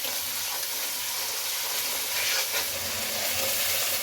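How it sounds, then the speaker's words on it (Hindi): Ground spices frying in a pan for dhaba-style chana dal: a steady, fairly soft, continuous sizzle with faint stirring throughout, and no talk. "अब मसाले को इसमें अच्छे तरीके से भून लें।"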